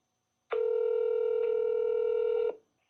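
A telephone call to a Toyota dealership about a key for a 2019 Highlander, with a steady two-second ringback tone that starts abruptly and stops, then another begins, loud and alone.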